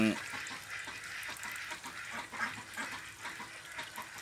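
A flock of Yi Liang ducks quacks continuously, many overlapping calls forming a busy, chattering chorus at moderate distance.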